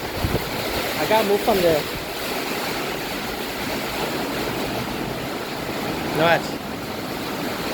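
Wind-driven rain blows in across a Barbados setting as a steady broad rush, heavy and continuous, while someone speaks briefly near the start and again later.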